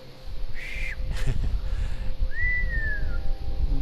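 A person whistles under the northern lights, a short steady tone followed by a longer sliding note that falls in pitch, over a steady background rumble.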